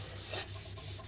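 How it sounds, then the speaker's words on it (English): A Sabitoru rust eraser scrubs back and forth over a Japanese whetstone to lift trapped steel, giving quick rhythmic gritty rubbing strokes, close and fairly loud, about four in a second. "I'm going to use my Sabitoro rust eraser"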